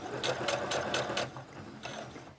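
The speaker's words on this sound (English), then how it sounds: "lower the foot, and keep sewing" A sewing machine stitches a straight seam through felt, running close and steady in a few quick bursts with a brief pause before it resumes.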